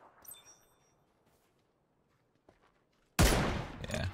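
Gunfire erupts in a shooter video game, with a loud burst of shots arriving suddenly near the end after a quiet stretch with a few faint distant cracks.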